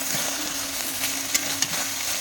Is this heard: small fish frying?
yes